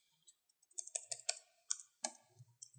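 Code is typed on a computer keyboard in quick, uneven bursts of close, crisp key clicks, with short pauses between the groups of keystrokes.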